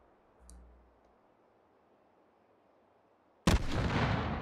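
An artillery strike called in by a signal flare in the VR game Hot Dogs, Horseshoes & Hand Grenades, arriving as a sudden loud close blast that cuts through a quiet stretch and rumbles on, after a faint earlier pop.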